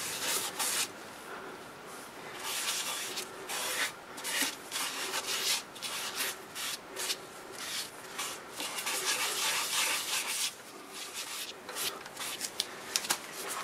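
Soft, continuous rubbing and scraping as shellac-based sanding sealer is applied to turned apple wood, in uneven strokes with brief pauses, close and fairly quiet.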